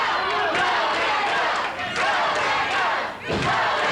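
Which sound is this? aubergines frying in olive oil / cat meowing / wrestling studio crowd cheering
wrestling studio crowd cheering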